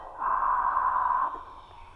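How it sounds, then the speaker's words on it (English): Ujjayi breathing in yoga: a single slow inhalation through the nose with a soft, steady hiss made in the throat, close and quiet, lasting about a second. "This is called ujjayi breathing."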